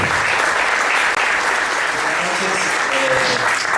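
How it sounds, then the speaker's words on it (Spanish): Audience applause welcoming two guest radio hosts onstage at a spring 2013 event in Monte Hermoso, a dense, steady roar of clapping that holds loud and close throughout, with a few voices mixed in. "Le damos un aplauso y la bienvenida a los detectives salvajes"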